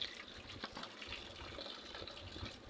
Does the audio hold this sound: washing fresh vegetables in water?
yes